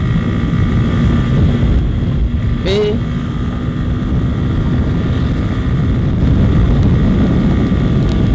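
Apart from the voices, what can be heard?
motorcycle accelerating at speed on the road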